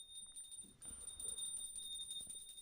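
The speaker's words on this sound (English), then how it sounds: "please ring the bell as you do so" A small hand bell rings faintly during an arati offering, its thin, high metallic tone sustained throughout. Low rustling sounds from the room lie underneath, and no one speaks.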